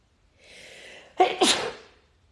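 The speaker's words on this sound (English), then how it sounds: "Hold on, I feel like I'm going to sneeze." A single person's sneeze indoors, a short soft intake of breath followed by a sharp two-part burst, close and clear with no talk over it.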